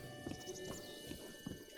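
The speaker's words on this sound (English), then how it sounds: "Hurry up, you silly horse." Horse hooves clip-clop in The Legend of Zelda: Breath of the Wild, a few quiet, evenly spaced game-audio footfalls with no talking.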